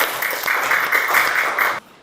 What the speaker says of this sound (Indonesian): Oke, tepuk tangan untuk DWD.